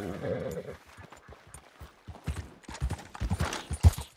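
Horse hooves clip-clopping in the Red Dead Redemption game, a quick uneven patter of steps that builds toward the end, mixed with some game sounds and a brief voice.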